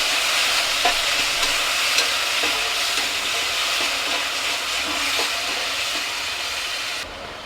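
A ladle stirs chopped tomatoes in a pan over a steady frying sizzle, with faint scrapes and soft knocks surfacing now and then through the continuous hiss.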